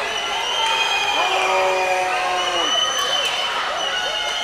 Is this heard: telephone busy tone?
no